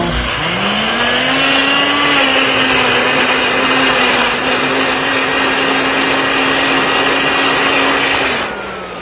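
A blender whirs up to speed and runs steadily at a loud, high pitch while puréeing homemade sofrito with a little broth for Cuban black beans and rice, then winds down at the end.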